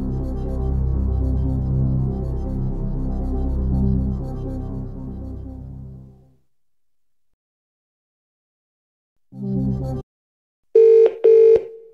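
A synthesized telephone ring for the phone-a-friend lifeline in a Millionaire DVD quiz game sounds as two short, loud electronic bursts at the very end. Before it come low musical tones, then silence.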